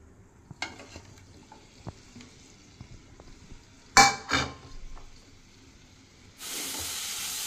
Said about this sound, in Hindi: प्याज टमाटर और हरी मिर्च को हल्का सा फ्राई कर लेते हैं ताकि उसका कच्चापन निकल जाए